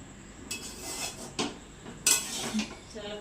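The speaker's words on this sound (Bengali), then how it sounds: "আমি জাস্ট গরম করছি।" Chowmein being reheated in a pan, with a few sharp clinks and scrapes of utensils against the metal over a low kitchen background, close by and moderately loud in short bursts.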